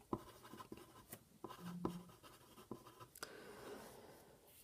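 Pen or pencil writing out a statistics formula by hand, faint close scratching strokes with small taps, a quiet irregular rhythm throughout.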